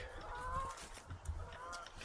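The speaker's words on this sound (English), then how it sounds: "Geese are noisy behind me, as you can hear." Geese honking behind the speaker outdoors, faint repeated nasal honks in a couple of bursts over low wind and background noise.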